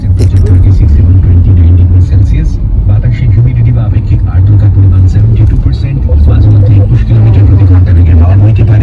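A car driving along the road, a loud steady engine rumble heard from inside the cabin, with people talking over it throughout.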